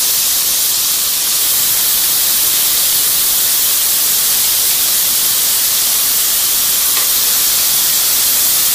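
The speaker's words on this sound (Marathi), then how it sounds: "हे थोडंसं परतून घेतल्यानंतर मी यामध्ये टाकते बटाटे जे आपण ठेचून ठेवले होते" Crushed potatoes sautéing in a hot pan with oil and asafoetida for a Maharashtrian potato thecha, a loud, continuous, even hiss of frying heard close and alone.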